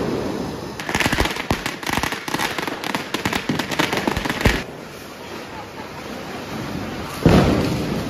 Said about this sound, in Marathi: आवाज ऐकू शकता, मोठ्या आवाज फटाक्यांचा